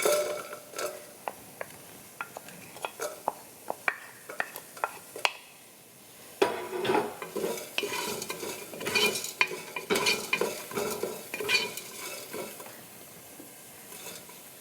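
Onions go into a pot of South Indian sambar and are stirred as they fry, with regular spoon taps against the pot at first, then a brief pause and a busier stretch of scraping and sizzling up close.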